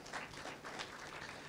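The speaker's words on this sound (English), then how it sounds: "Let's give him a round of applause" Faint applause from a workshop audience, a soft continuous patter of many hands clapping heard from a distance for a moment.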